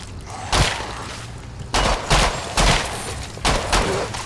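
Killing Floor 2 gameplay brings several loud, heavy bursts of gunfire, about four distinct volleys spaced roughly a second apart, each with a booming thump under a continuous background rumble.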